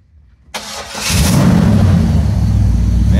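A 1964 Ford F100 short box pickup with a 455 big block fires up after a brief starter crank and settles into a loud, steady, rumbling idle through dual exhaust, close by with no talking.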